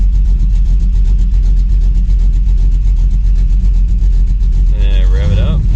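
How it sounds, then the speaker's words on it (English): Lumpy idle from a cammed Dodge Dakota R/T engine, a loud, steady, loping rumble close by, with a voice talking over it near the end. "Hopefully you guys can hear this crazy cam."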